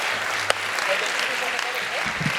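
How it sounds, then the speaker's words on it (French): A comedy club crowd in Sherbrooke applauds comedian Steph Vandelac with steady, dense clapping that fills the room, a few cheers and voices mixed into the ovation. "On peut applaudir Steph."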